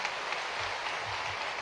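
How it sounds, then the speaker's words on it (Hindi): Audience applause at an outdoor rural tourism event in Bhopal, a steady dense clatter of many hands clapping close by for the whole stretch, with no talk over it. "ताली वाली बजा दो"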